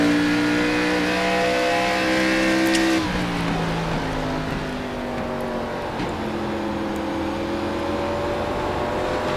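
Race cars in a Grand National Series racing game hold a steady, loud engine drone that dips in pitch and then runs on through a turn, with tire noise blended in and no talking.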